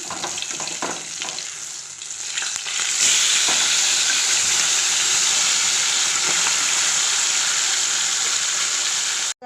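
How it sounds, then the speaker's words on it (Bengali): Pieces of rohu fish frying in a pan, a loud, close, continuous sizzle that starts with a few crackles and scrapes, then swells into a steady bright hiss for most of the stretch. "পুরো সব মাছগুলো ভেজে নেবো ভেজে নেবো মাছগুলোকে"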